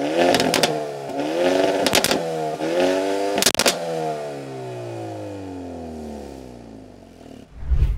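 A 2024 Hyundai Elantra N exhaust revs up several times, with crisp pops and bangs as the revs drop, then a long falling engine note that fades to idle; loud and close, with no talking.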